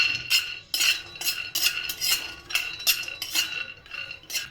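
Peanuts are dry-roasted and stirred in a metal pan for sesame laddoos, making repeated scraping, rattling strokes of a spoon against the pan at a quick, irregular rhythm, fairly close and moderately loud.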